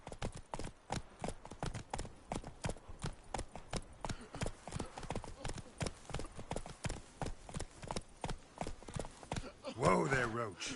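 Roach, the horse in The Witcher 3, trots with a steady, even clip-clop of hooves at moderate volume, closing with a short neigh as the horse is reined in.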